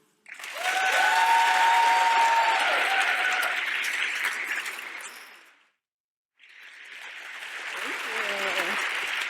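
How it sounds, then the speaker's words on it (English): Loud audience applause with cheering at a Latinas leadership summit welcome, a long sustained burst that fades out, a brief silence, then clapping resumes. "I want you to give a round of applause, very loud, to the Honorable Guzman."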